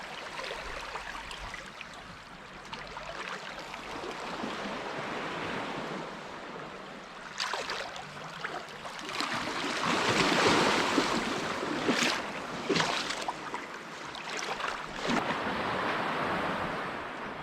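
Wake from a passing boat washing and lapping against the shore at Flowerpot Island, a continuous splashing surge that builds and swells midway with wind noise on the microphone.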